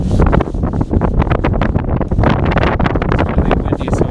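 Strong outdoor wind buffets the microphone in loud, continuous gusty roars and rumbles, close and dominant throughout with no clear speech.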